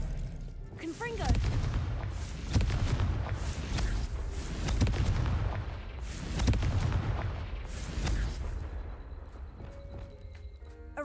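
In the Hogwarts Legacy video game, a Confringo fire spell sets off a run of heavy, booming blasts every couple of seconds. The booms roll over continuous battle noise and game sound effects.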